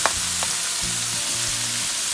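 Ground beef with potatoes fries in a pan with a loud, steady sizzle, while occasional scraping clicks and low hums sound beneath it, and no one speaks.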